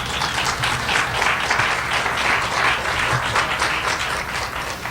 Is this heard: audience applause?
yes